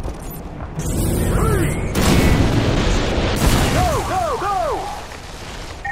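Heavy explosions and blasts from a Call of Duty: Modern Warfare 2 battle, loud booming impacts with rumbling debris, mixed with whistling incoming sounds and mechanical combat noise.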